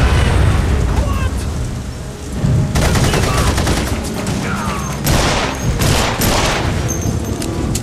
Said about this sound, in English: we're in a gunfight already